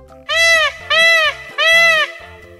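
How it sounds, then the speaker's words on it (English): A peacock gives three loud, drawn-out wailing calls in quick succession, close by, each about half a second long, with a faint backing tone between them and no talking. "Peacock."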